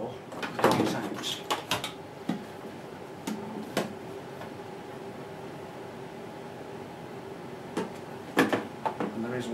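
Plastic detergent drawer pulled out of an LG WM14225FD washing machine during disassembly, with scattered clicks, knocks and rattles between quieter stretches and a voice talking faintly in the background.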